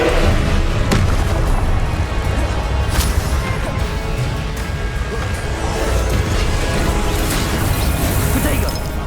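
Expelliarmus spell combat in the video game Hogwarts Legacy brings repeated booming blasts, crashes and sharp pops throughout a busy fight, with a voice talking over the action.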